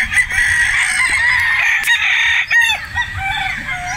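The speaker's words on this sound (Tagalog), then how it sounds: "Pero guwapong manok ito." A rooster, a four-headed broodstag-quality fowl, crows loudly and close with a long drawn-out call, followed by shorter clucks and squawks against a background of other birds.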